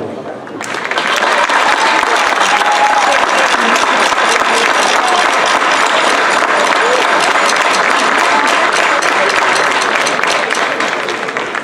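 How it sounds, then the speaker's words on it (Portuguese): Sustained, loud applause from an audience after a folk group from Lourvão finishes, at a traditional folk event in Funchal, Madeira; dense steady clapping fills the whole stretch from just after the start with no break. "Quero todos nós dar uma grande salva de palmas aos nossos amigos do grupo do Lourvão."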